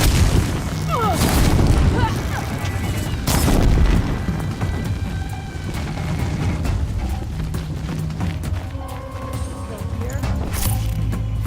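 A signal fire ignites with deep booming bursts in Horizon Zero Dawn on PlayStation 4, two loud blasts early on followed by a lingering rumble, with a voice speaking over the game sound.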